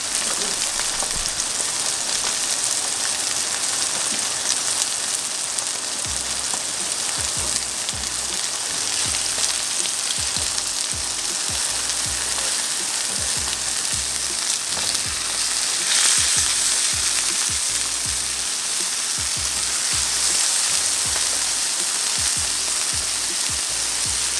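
Food cooks in a hot pan with a loud, continuous sizzle and crackle that holds steady throughout, occasionally rising in faint pops, with no talking.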